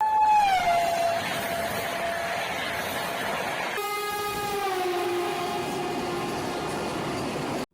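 An Indian express train on the Delhi–Jhansi route, the Gatimaan Express, sounds a long horn blast that holds steady, then drops in pitch as it rushes past, with continuous rolling rail noise throughout and no talking.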